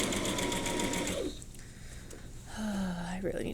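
A sewing machine doing a back stitch on a straight seam joining two fabric squares, its fast rhythmic whir running close and loud, then pausing before a short second burst, with a voice speaking around it.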